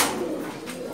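A female Chila pigeon, of the chorui shape, coos in a low, soft, rounded call for about a second at a pigeon loft in a Dhaka pigeon market.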